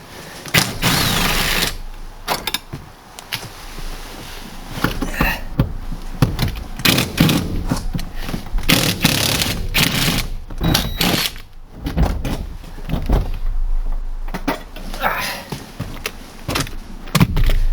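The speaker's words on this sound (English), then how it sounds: "so just got to undo the two bolts, one there, one there." A ratchet undoes the seat bolts inside a Peugeot 206, giving close, rapid runs of mechanical clicking in repeated bursts with brief pauses between them and no talking.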